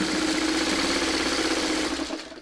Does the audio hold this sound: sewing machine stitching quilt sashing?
yes